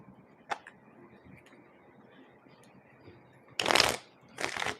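Tarot cards shuffled by hand, a dense riffling burst followed by a second shorter one, close and fairly loud after a quiet stretch with a single tap.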